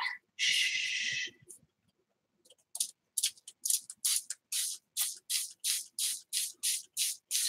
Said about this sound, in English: I got a fine mist spray bottle.